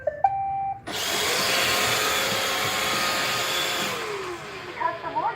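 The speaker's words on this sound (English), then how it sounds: "Roomba uses a vacuum" An iRobot Roomba robot vacuum starts up after a short chime and runs with a loud, steady whirring hum close by, then softer electronic tones follow as it winds down.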